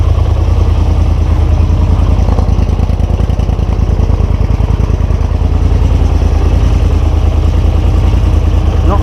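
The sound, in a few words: 4 wheeler ATV engine running after jump start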